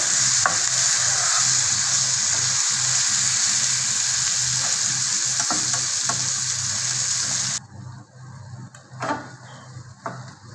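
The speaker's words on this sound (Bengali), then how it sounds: "এর মাঝেই টমেটোটাকে আমি ফ্রাই করে নেব" Tomatoes fry in a pan, first as a loud, close sizzle with steady stirring, then cutting to quieter, sparse clatters of a spoon against the pan.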